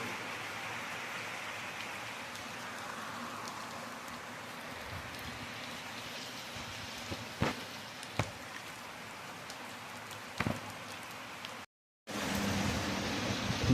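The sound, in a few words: heavy rain falling at night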